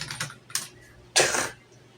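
A few quick keyboard keystrokes clatter nearby, ending in a louder burst of rapid key presses.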